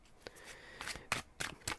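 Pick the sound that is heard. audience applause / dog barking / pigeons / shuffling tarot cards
shuffling tarot cards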